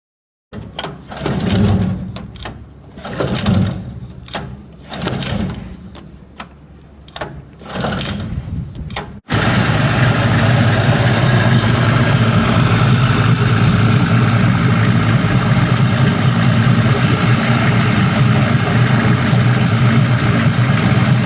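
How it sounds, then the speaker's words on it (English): A Mercury outboard motor with a no-start problem cranks in several rough, sputtering pulls, then abruptly fires up and runs with a loud, steady engine drone. "I'm hopeful that the next time I give it some gas, try again, it should fire"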